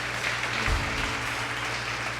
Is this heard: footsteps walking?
no